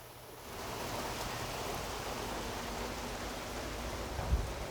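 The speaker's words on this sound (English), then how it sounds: "It's like one of my favorite parts of having to open a garage is when it starts raining like that. The sound is nice." Steady rain falls outside an open garage, a dense even hiss that holds throughout with no voices, one brief thump near the end.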